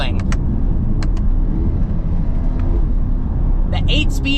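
A 2024 Corvette E-Ray pulls hard with a steady, loud engine roar that keeps building throughout, while a voice talks over it.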